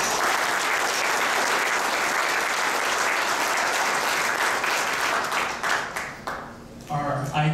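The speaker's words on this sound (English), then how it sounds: "We could give a round of applause for Scott Pollock." Audience at a USA Hockey parent night applauding, a loud sustained burst of clapping that thins out and fades near the end, followed by a voice resuming.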